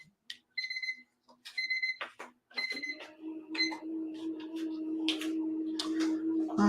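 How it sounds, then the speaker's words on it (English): Repeated electronic beeps in quick bursts, loud and close, followed by a steady droning hum from an appliance running underneath. "there's my timer. Let me turn that off."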